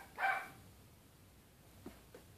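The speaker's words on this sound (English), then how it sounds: "His dogs are really loud." Dogs bark indoors downstairs early in the morning: one loud, close bark, then two faint, short yips after a pause.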